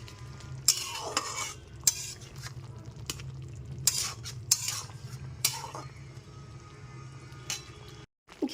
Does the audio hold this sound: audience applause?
no